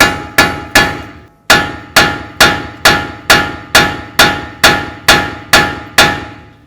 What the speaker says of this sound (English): Now we're going to use a punch and a hammer,